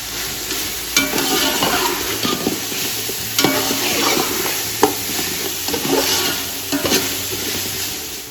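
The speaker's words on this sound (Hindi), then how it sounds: "यहाँ पे गोश्त को ऐड कर देते हैं और उसे 5 से 6 मिनट के लिए अच्छी तरह भून लेते हैं" Beef with spices frying in a pot for yakhni pulao, a steady close sizzle broken by irregular scraping stirs and occasional spoon knocks against the pot, with no talking.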